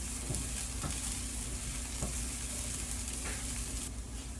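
Onions sizzle and crackle steadily in a hot pan over medium heat for homemade crunchwraps, with occasional stirring clicks, close and continuous with no talking.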